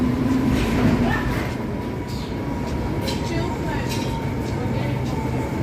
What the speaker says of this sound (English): this is the subway station at Cathedral Parkway, 110th Street Station for the downtown Brooklyn #1 train.